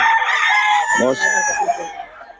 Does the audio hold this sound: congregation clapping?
no